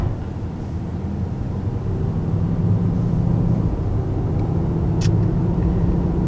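A 2019 Mercedes-AMG GT 63 4-Door with a 577 hp engine accelerates: a deep, steady rumble of engine and road noise from inside the car, continuous throughout, no voices.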